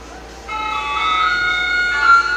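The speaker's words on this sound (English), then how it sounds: "Like the ice cream truck." An ice cream truck jingle plays from a PA system fitted to a 1957-60 Ford F100 pickup truck, a steady bell-like electronic melody of sustained tones that starts after a brief lead-in, with no talking.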